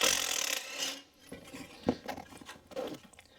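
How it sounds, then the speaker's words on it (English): An impact gun backs a spark plug out of a Chevy 4.3L V6 Vortec engine, with a loud mechanical burst at the start followed by lighter clicking and rattling bursts up close. "I'm going to use my impact gun to take it off."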